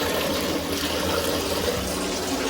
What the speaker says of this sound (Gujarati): આપણે ગરમ પાણી ઠંડુ પાણી ચાલુ કરી દઈએ